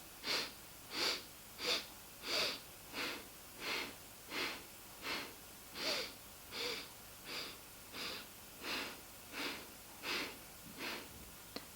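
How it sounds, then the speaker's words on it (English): Slow, paced breathing practiced as a calming exercise, with about fourteen soft, even breath sounds in a steady rhythm, close and quiet, with no talking. "Breathe in 4 breaths and out in 4 breaths"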